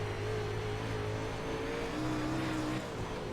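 An UMP modified race car in iRacing at Weedsport roars loudly and steadily as its tires spin, engine tone holding high and wavering slightly before easing near the end, with no talking.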